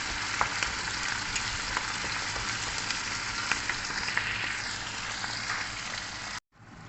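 Salted shrimp paste (bagoong alamang) frying in a pan, giving a steady close sizzle with faint crackles that cuts out briefly near the end.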